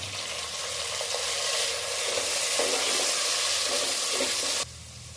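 Onions and green chillies fry in a pan, hissing in a steady, loud sizzle with stirring scrapes throughout. The sizzle drops abruptly near the end.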